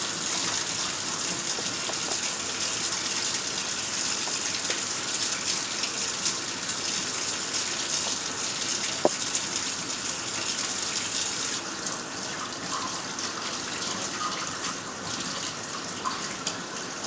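Tap water running steadily into a sink while hands are washed with soap to remove grease, a constant gushing hiss with a few faint splashes and small knocks.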